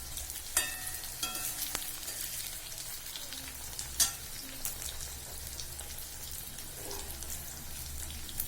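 Eggplant pieces fry in a hot pan for vangi bath, a steady close sizzle with scattered sharp crackles and stirring clatters, no voices.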